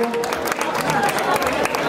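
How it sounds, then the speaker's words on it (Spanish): Brief, steady applause from a crowd at a neighbourhood street festival for the young district representatives, dense clapping with some voices mixed in. "pido un aplauso para estas jóvenes bellezas representantes del barrio sector centro"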